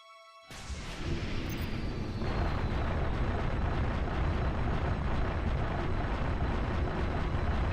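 A Punic-class supercarrier turret from Halo Reach fires with a sudden, sharp blast, then swells into a massive, sustained rumbling roar that stays loud and steady to the end, with no voices.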